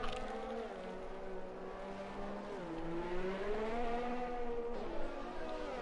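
Onboard Ferrari Formula 1 engine in the F1 2020 racing game at the Brazil circuit, a loud continuous high-revving whine that climbs and drops through gear changes, heard alone without talk.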